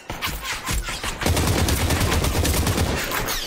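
Gunfire in the video game Population: One, a rapid burst of shots that thickens into sustained automatic fire for a few seconds, loud and without talk.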